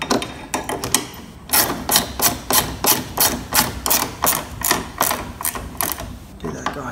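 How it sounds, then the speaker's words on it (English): A 13mm ratchet spanner clicks steadily while tightening a nut on a go-kart, a loud close run of about a dozen evenly spaced ratcheting strokes. "Then grab your 5mm T-bar, 13mm ratchet spanner."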